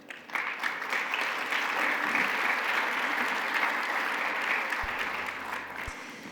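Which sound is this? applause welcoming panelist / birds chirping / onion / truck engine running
applause welcoming panelist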